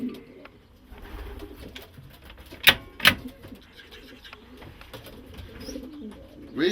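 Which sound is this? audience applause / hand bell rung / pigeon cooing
pigeon cooing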